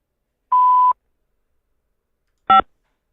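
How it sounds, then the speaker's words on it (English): Two electronic telephone keypad tones sound on a prepaid call line: a steady half-second beep, then after a pause a shorter, harsher dial tone for the 5 key, both clear and alone against silence. "To accept this call, say or dial 5 now."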